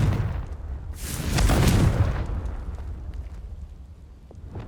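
A Confringo blasting spell explodes in Hogwarts Legacy, a loud rumbling burst that swells for about a second and then fades into a long, low tail, with no talking.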